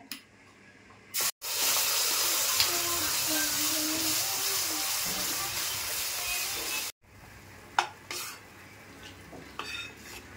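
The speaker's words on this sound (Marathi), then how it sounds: "माशांच्या साराला फोडणी दिली" A strong, steady sizzle of spices hitting hot oil to temper a fish curry fills several seconds, with faint clinks of a utensil before and after.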